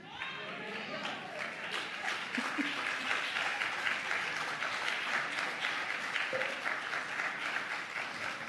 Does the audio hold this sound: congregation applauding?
yes